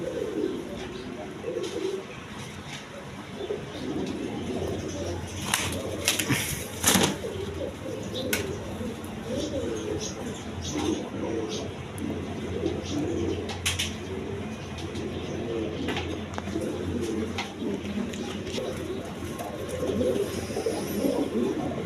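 Red Ghorra pigeons coo in a steady low murmur, several birds overlapping with occasional wing flutters and clatter, against a busy background of a market or loft, with faint human voices.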